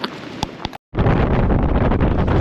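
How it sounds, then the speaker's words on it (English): Strong wind buffets the microphone at a coastal beach, a loud rumbling roar that briefly drops out before resuming at full force. "don't think you'll be able to hear me because the wind is blowing"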